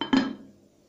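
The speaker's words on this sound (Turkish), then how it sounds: "Ve tencerenin kapağını kapatıyorum." A metal lid lands on a cooking pot in a Turkish kitchen while a fruit dessert is being made: one sharp clink close by that rings briefly and fades over the next half second.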